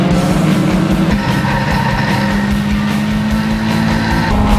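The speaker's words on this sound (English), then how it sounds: "The field is heading down the main straight, looking up to turn one" Race cars roar down the main straight at Circuit of the Americas, loud and close, with high engine drones whose pitch shifts as the field passes.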